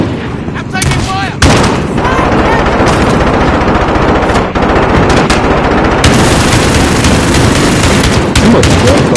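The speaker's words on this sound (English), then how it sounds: "Too much gunfire, bro. I can barely do shit." Loud, dense machine-gun fire from a PS4 shooter game hammers almost without a break, with rapid bursts layered over booming shots and a brief drop in the middle.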